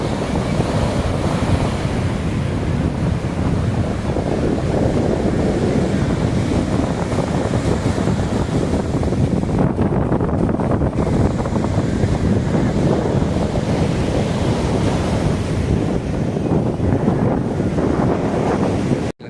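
A steady roar of ocean surf and gusting wind at Mypadu beach in Nellore fills the whole stretch, broad and loud, with constant wind buffeting on the microphone and no voices.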